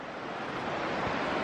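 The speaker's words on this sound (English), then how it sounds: "But that's a creek." A creek in the woods gives off a steady, even rush of flowing water, close and continuous, with no voices.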